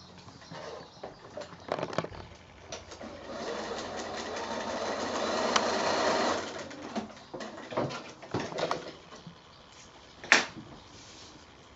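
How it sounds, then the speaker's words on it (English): A domestic sewing machine runs steadily while stitching a foundation-pieced kimono quilt block, its whirring motor rising for a few seconds and then stopping, with fabric handling and small clicks around it in a quiet room. "Go to the sewing machine."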